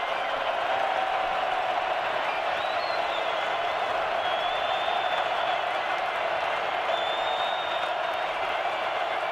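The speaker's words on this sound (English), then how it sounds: "Listen to this crowd." A large football stadium crowd at an NCAA FCS championship playoff game between UT Martin and Montana State makes a dense, steady roar. The noise holds a constant loud level throughout, with possible commentary faint beneath it.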